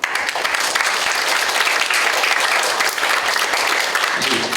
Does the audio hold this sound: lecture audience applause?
yes